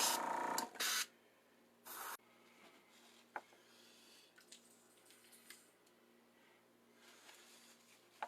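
Three quick bursts of spray paint hiss close by, sprayed into the cracks of a Godzilla wall-hanger model, followed by a quiet stretch with a few faint clicks.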